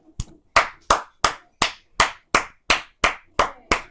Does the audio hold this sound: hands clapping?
yes